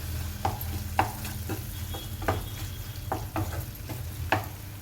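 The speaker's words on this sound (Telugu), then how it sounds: "టమాటా ముక్కలు కొద్దిగా మగ్గిన తర్వాత ఇందులో కొత్తిమీర వేసుకోవాలి" Tomato pieces and coriander fry in a pan for tomato rice, a steady soft sizzle under repeated scraping stirs of a spoon against the pan at irregular intervals, no voices.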